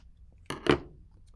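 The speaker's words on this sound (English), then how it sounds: "Just gonna snip it just like so." Paper being cut for a craft page, with two quick close scissor snips in a row in an otherwise quiet room.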